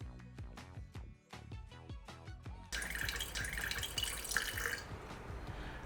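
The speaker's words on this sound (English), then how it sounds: "the first thing we're going to do is add our water" Water being poured in to start a sourdough starter, a 50 ml measure going into a mix of wholemeal and regular flour; a steady close pouring wash that begins partway through after some light clinks and taps.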